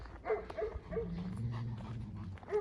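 A dog whimpers and yips in short bursts close by, with rustling and low background noise underneath.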